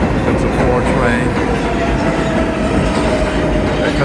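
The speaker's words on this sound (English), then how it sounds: "It's a 4 train" A New York subway 4 train rolls into a large Manhattan station with side and island platforms, a loud continuous rumble of wheels and clattering cars with faint squealing, close and filling the space.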